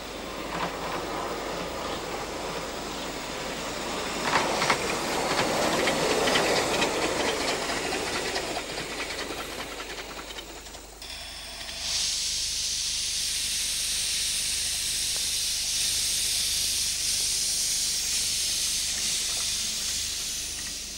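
A steam locomotive hauls a train along a railway, heard as a steady rumbling run that gives way to a loud, continuous high hiss of escaping steam in the second half, with no voices.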